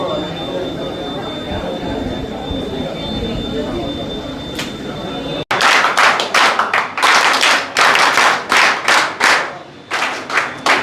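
Crowd clapping at a community gathering honoring a merchants' association breaks out abruptly after a steady background hum, a loud burst of many hands with uneven surges and dips through the second half.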